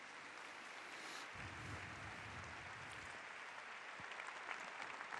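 Audience applause at a meeting of families in Madrid, a dense, continuous clapping from a crowd heard at a distance and fairly quiet, with a slight swell near the end.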